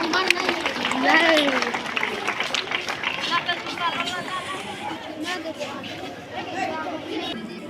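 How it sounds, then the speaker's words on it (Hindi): Children clapping at a Republic Day school celebration in Fatehpur, a dense wash of applause mixed with crowd chatter and a voice on the microphone, steady and fairly loud throughout. "हमारे डायरेक्टर सर के लिए एक बार जोरदार तालियां आप सब बच्चे बजाएं"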